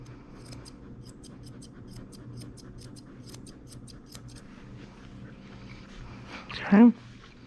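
Grooming scissors snip steadily through a black doodle dog's coat, a close rapid run of light metallic clicks against a low background hum, ending with a brief louder noise.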